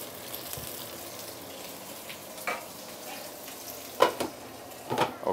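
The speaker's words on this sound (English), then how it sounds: "Let it continue pan fry." Fish pan frying in oil for ikan bakar, a low steady sizzle with a few sharp spitting crackles and bursts, close by, no speech.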